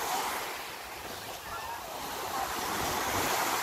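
Ocean surf at high tide on Pensacola Beach, Florida washes in steadily, a broad continuous roar of breaking waves with wind buffeting the microphone, no voices.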